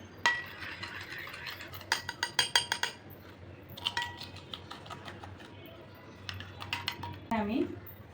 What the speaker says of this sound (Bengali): এখন আমি এই বেটারটা এখন মিক্সচার করে দিব।